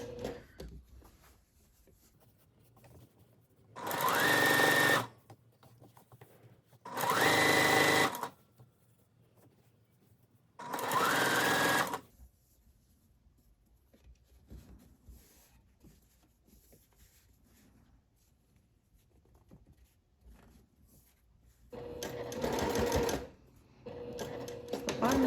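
A sewing machine backstitches a pocket on a striped seersucker dress. It runs in three short bursts of rapid stitching with quiet pauses between them, then a fourth burst near the end. Each burst sounds close and clear.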